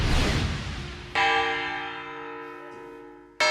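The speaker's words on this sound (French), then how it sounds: "Ils testent avec jubilation la qualité musicale de la cloche." A newly restored church bell rings out in two loud strikes, each leaving a long, shimmering resonant hum that slowly fades, with no voices over it.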